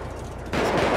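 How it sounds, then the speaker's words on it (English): Enemies shooting at a Chevy in GTA 5, a burst of loud, rapid video game gunfire that breaks in abruptly halfway through after a quieter rumbling stretch. "They still down there shooting."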